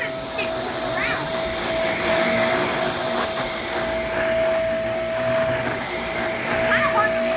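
A Shark, Bissell or Hoover upright vacuum cleaner with strong suction, its steady loud whine and roar running close by without a break, with a high pitched tone holding over the rush of air.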